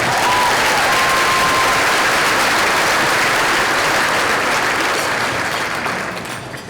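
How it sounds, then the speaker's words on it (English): A keynote audience gives a loud, dense round of applause for students, a full crowd clapping steadily and then tapering off at the end. "One more round of applause"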